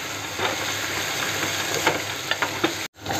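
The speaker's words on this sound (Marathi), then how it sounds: "चांगले भेंडे आपण हे तेलावरती परतून घ्यायचे" Chopped okra sautéing in hot oil in a home kitchen, a steady close sizzle with occasional stirring scrapes and clicks, broken by a brief drop near the end.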